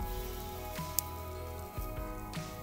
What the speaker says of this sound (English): And we're just gonna sear